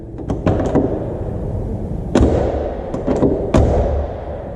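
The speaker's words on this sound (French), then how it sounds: "Porte qui ferme très bien avec des beaux ajustements." Several sharp thuds of a Porsche 356 car door shutting, a couple of quick closes early, then two firmer slams a second or so apart, over a steady low background rumble.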